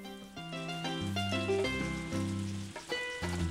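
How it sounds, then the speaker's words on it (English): Rain falls in the farming game Harvest Moon: Another Wonderful Life as a steady hiss beneath looping game music with tonal notes, continuous and even throughout with no speech. "It is definitely raining right now."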